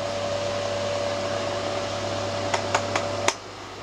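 A 3 kW electric fan heater blows hot air in a steady, even whoosh with a faint whine, ending in a few quick clicks as it is switched off.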